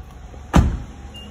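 Power window motor on an SV car whirring briefly as the glass moves, a short close mechanical hum in a quiet interior.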